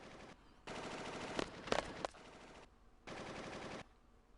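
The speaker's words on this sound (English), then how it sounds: "What was that? Gunfire. Sounds pretty bad." Automatic gunfire in the Final Fantasy VIII Remastered video game comes in two long, dense bursts separated by a short lull, with a few sharper cracks standing out in the middle; no one speaks.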